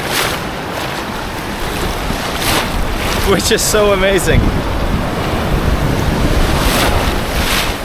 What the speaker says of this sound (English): the waves are bigger here for sure as well